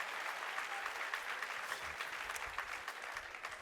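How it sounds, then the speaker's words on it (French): Steady applause from an audience at a wedding dress fitting, continuous and moderately distant, holding evenly from start to finish without a break. "Et on peut l'applaudir, on peut l'applaudir."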